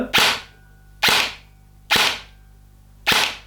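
Four sharp, snappy shots from an Arcturus HK416A5 airsoft electric rifle fire at a steady pace roughly a second apart, each a crisp crack with a short ringing tail, close and loud.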